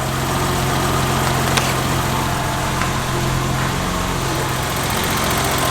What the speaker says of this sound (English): Really good idle for a cold start.